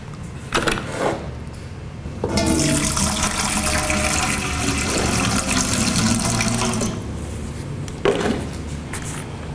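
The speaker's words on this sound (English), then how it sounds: "So first thing we'll do is we'll add 3/4 of our water to the pail." Water poured into a pail for mixing a mini-prism test batch, a loud continuous splashing gush lasting several seconds between short splashes before and after.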